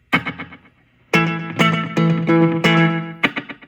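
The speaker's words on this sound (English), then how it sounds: "Delay plus reverb, right?" A Fender Champion 20 amp with its delay plus reverb effect: distorted guitar notes and chords ring out with echoing repeats and a spacious tail, one isolated pluck followed by a rhythmic run of struck chords.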